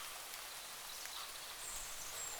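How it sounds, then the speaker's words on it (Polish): Raindrops fall onto the ground in a steady, soft patter, a fairly faint and even wash of drops with no other sounds over it. "To są kropelki deszczu, które spadają na ziemię"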